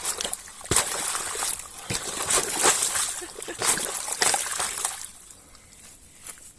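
Water rushes steadily through a pipe on a homestead, a broad, hissing wash with occasional splashy bursts. It quiets noticeably near the end, and faint talk may sit underneath.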